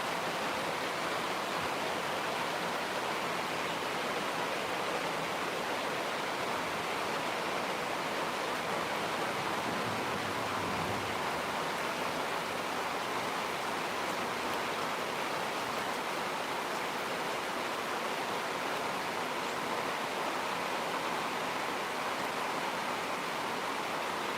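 Early morning rain at 5 a.m. falls as a steady, even hiss of broadband noise, constant and unbroken throughout.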